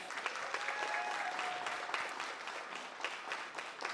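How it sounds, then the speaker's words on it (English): Audience applause at a Black History Month celebration in Regent Park, a dense, steady patter of many hands clapping throughout, fairly soft and at a distance. "Let's all give them a hand of applause."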